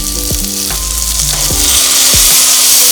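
Onions frying in a pan for paneer chana biryani give a loud, steady sizzle throughout, with a few soft stirring scrapes and clunks of a utensil against the pan.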